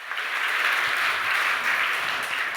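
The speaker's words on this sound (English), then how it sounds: "let's just give it a round of applause for Recovery" Sustained applause from a conference audience at a web developers' event, a steady broadband wash of many hands clapping at even loudness throughout with no talking.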